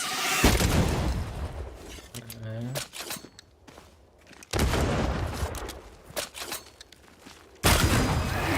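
Gunshots ring out in the dark fantasy action game Banishers: Ghosts of New Eden, sharp booming bursts that hit abruptly at intervals among quieter stretches of ambient game sound, with talk in between.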